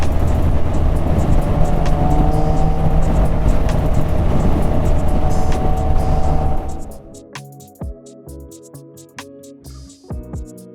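A Triumph Rocket 3R motorcycle rides along a road with a loud, steady engine drone and rushing wind for several seconds, then the roar drops away to a quieter idle with sparse ticks and knocks.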